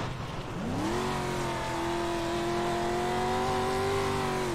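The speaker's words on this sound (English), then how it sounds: "These are like, I think little four cylinder motors, I believe." A four-cylinder rallycross car engine in the iRacing game revs up sharply then holds a steady high drone, loud and close, with no talking.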